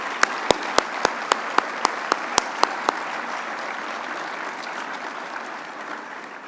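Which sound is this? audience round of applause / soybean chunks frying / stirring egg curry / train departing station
audience round of applause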